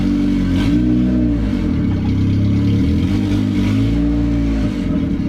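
Honda Civic-based Bugatti Veyron replica revving, its engine rising and falling in several loud, close revs with shifting tones, no talk over it.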